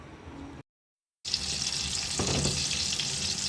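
Fish frying in a pan: a constant hissing sizzle broken by a short silent gap, then louder bright crackling with a brief burst of spattering, no speech.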